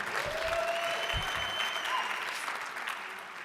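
A lecture audience breaks into steady, dense applause that holds throughout at an even level, with a faint tonal whine running through it.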